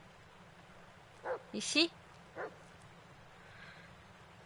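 A dog in the Blair Witch video game gives a few short yips and barks, faint and in quick succession, against a low steady background hum, with a voice briefly speaking.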